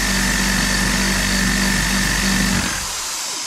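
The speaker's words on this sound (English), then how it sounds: "Now, spin the alternator up, you notice nothing's happening." An automotive alternator spun up on a test bench, a loud steady whine and hum with a mechanical rattle that suddenly drops away near the end as it spins down.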